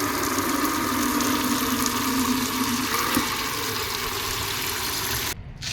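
Water runs steadily into a container, a continuous near splashing hiss that keeps an even level before cutting off abruptly near the end.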